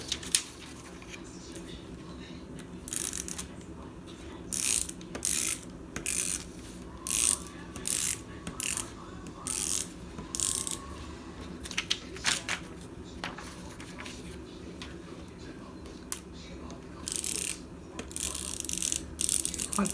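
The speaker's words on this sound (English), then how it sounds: "Tape runner on the edge." A tape runner applying clear adhesive along the edges of a card, heard as repeated short ratcheting clicks in bursts, close and fairly quiet.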